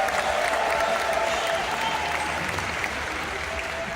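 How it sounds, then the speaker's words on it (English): A crowd claps steadily and densely for volunteers at an aquarium dolphin show, holding an even level throughout without breaks. "How about a round of applause for our volunteers?"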